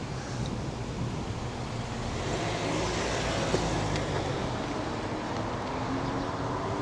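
Steady roar of morning car traffic on a road, passing vehicles blending into a continuous wash heard from a moving cargo e-bike, with wind rush throughout.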